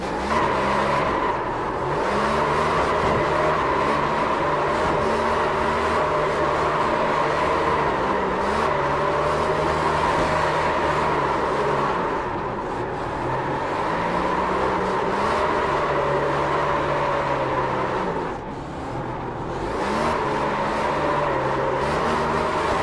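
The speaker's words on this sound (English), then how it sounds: "I'm going to try to do a burnout here and see if I can get this to work." A car attempting a burnout holds steady high revs with wavering engine pitch, a loud continuous roar close by with slight dips as the throttle is worked, with no talking.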